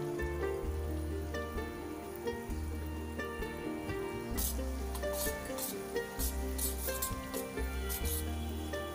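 Crushed jaggery cooks in hot desi ghee in a pan with a steady close sizzle, broken by brighter crackling bursts in the second half.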